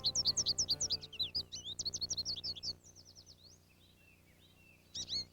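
A goldfinch in a wild backyard bird habitat gives a rapid run of high, close chirps, then softer twittering calls, and ends with a brief final burst.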